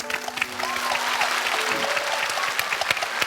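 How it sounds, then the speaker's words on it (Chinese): A studio audience on the Chinese debate show Qi Pa Shuo applauds. The clapping is dense and sustained for the whole stretch, steady and fairly close, with faint voices or tones mixed in underneath. "我真的要热烈鼓掌"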